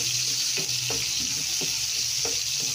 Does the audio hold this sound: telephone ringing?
no